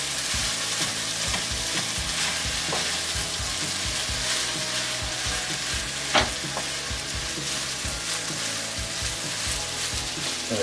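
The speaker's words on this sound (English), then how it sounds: "the key to any delicious fried rice is, of course, to fry it for several minutes, help the rice break up, and get it fried up" Steak fried rice sizzling and frying loudly in a hot pan, a dense steady crackle with occasional scraping stirs, close and alone without talk.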